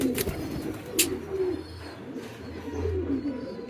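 Pigeons cooing softly in a nearby coop, a few low rolling coos rising and fading over steady background noise with a couple of faint clicks, no talk.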